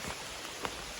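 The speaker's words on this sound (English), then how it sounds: "it's raining" Rain falling on the Appalachian Trail, a steady soft hiss of drops with a couple of faint taps or rustles, continuous and close, with no one speaking.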